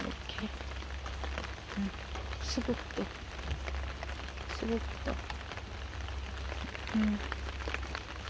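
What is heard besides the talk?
rain falling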